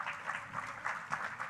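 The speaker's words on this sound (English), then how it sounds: "You deserve an applause" Applause for a team called up on stage at the closing session of a conference, a short burst of steady clapping with a few louder swells, moderately close and without talk.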